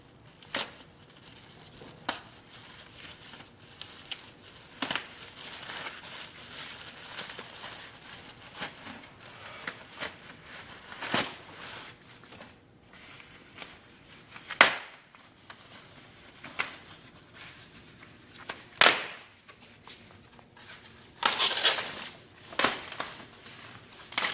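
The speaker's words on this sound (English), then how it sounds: "Now let's unwrap the bike." Plastic packaging crinkles and tears as it is pulled off a Swirl bike, giving soft rustling with scattered sharper rips and a louder crackling burst near the end.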